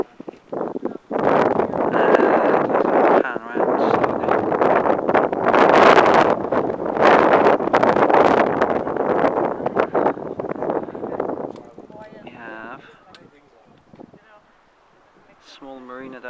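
Strong wind buffets the microphone on a mountain top about 300 meters high, overlooking a marina and islands, roaring loudly for about eleven seconds before easing, after which a voice speaks.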